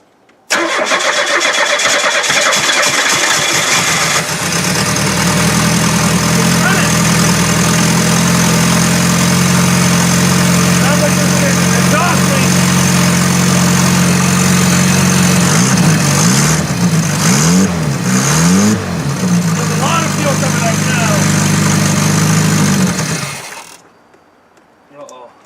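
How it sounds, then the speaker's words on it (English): An old Buick engine that sat for about 14 years cold-starts: a few seconds of ratcheting cranking, then it catches and idles loud and steady for nearly twenty seconds, wavering briefly near the end before cutting off. "Let's see if she'll fire up."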